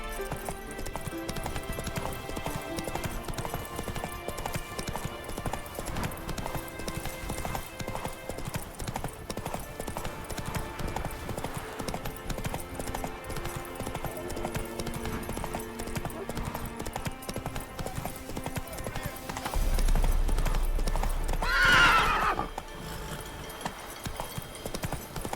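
Hooves of Roach, a horse in The Witcher 3: Wild Hunt, clip-clop in a steady galloping rhythm over an in-game music bed, with a louder burst of movement near the end.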